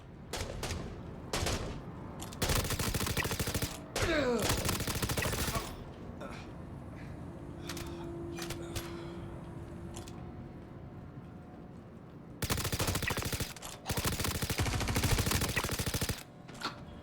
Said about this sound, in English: I guess he's trying to shoot me through the window